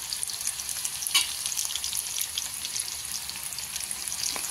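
Zunka masala fries and is stirred in a pan, giving a constant bright sizzle with small crackles and an occasional utensil tap, close and fairly loud, with no voices.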